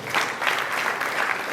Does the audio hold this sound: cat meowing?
no